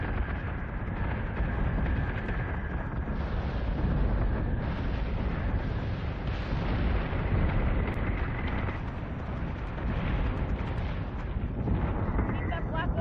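Battlestar Galactica Deadlock space battle: a continuous wall of flak fire and explosions rumbling and roaring steadily, dense and unbroken, with voices talking over the din.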